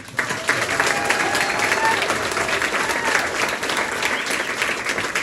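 Outdoor crowd at a school unions rally and school board march applauds loudly and steadily, a dense wash of many hands clapping with scattered cheers throughout.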